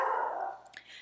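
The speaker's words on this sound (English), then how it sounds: "Okay, that's my dog." A pet dog giving a single short bark indoors, close and fairly loud, trailing off into a faint whimpering yip.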